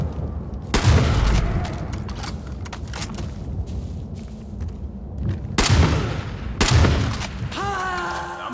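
Gunfire in the video game Far Cry 5, with loud booming shots in a few bursts, near and heavy, over a continuous low rumble of background game ambience.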